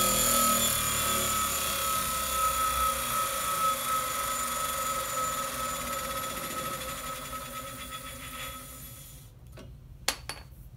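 A sharpening grinder winds down after being switched off. Its steady whine and hum fade slowly over several seconds, and a couple of faint clicks come near the end.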